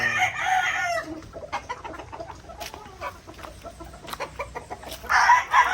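A Kelso Stag White Pit gamecock rooster crows loudly at the start and again at the end, with bursts of clucking and scattered farmyard noise in between.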